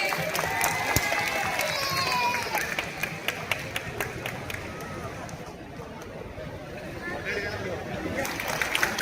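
Audience at a prize-giving event clapping in a dense, continuous burst of sharp claps that thins out midway and then swells again, with voices and crowd murmur mixed in.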